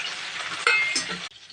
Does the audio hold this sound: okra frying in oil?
yes